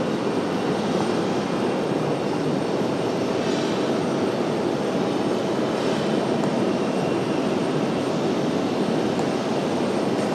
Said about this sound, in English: This one right here, the little guy coming in. That is coming from Montreal, private owner. Dahar, that's a TBM 940.